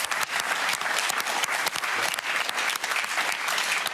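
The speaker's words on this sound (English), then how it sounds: "Round of applause for these guys," Studio audience at the Australian game show Pointless applauding a pair of contestants: steady, dense clapping that fills the whole stretch at an even, fairly close level, with no talking over it.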